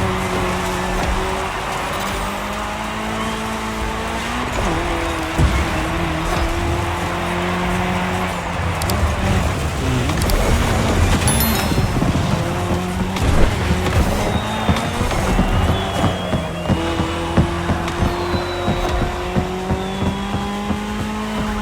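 Racing cars in The Crew Motorfest video game's cross-terrain Red Bull Speed Clash race, here on tarmac: loud, close engine roars rise and fall through gear changes, with tire squeals and skidding across a continuous run.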